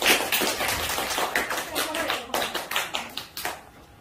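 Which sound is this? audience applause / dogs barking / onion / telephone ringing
audience applause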